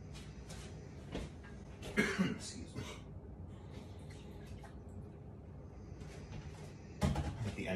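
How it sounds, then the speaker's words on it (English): A person recovering from a cold coughs in a kitchen while making low-carb keto cinnamon buns, with a couple of short, fairly quiet coughs among faint clatter and background noise. "so if I'm coughing a little bit, I do apologize in advance"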